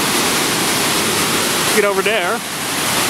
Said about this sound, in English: All right, waterfall.